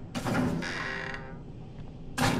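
A door creaks shut in the horror game Outlast, with a drawn-out mechanical creak and scrape followed by quieter rattles, then another loud creaking burst at the end, with no talk.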